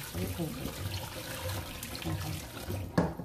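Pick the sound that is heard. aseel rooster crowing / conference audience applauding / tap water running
tap water running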